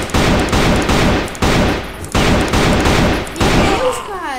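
Automatic gunfire in the online shooter Crossfire rattles in loud bursts of rapid shots, several short volleys in quick succession, close and harsh, with no voices.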